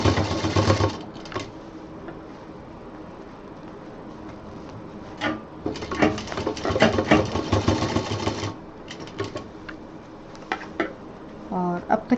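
A sewing machine stitches a loop onto a fabric baby diaper bag in two runs of rapid, steady mechanical whirring, one short and one longer, with light clicks and handling noises between them, close and moderately loud.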